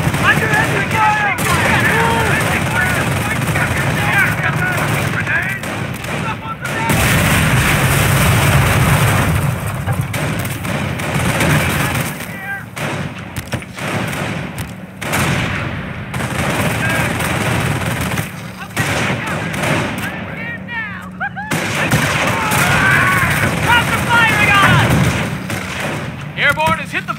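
Battlefield gunfire and artillery thump through a World War II real-time strategy game, Company of Heroes, set around Carentan, with rattling machine-gun bursts and heavy booms that rise and fall, while voices shout over the din.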